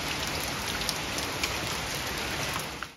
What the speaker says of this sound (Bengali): একদম ধুম ধাড়াক্কা বৃষ্টি হচ্ছে বাইরে